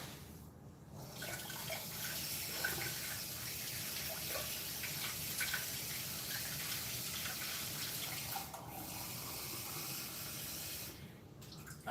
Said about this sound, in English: I have got to water my house plant.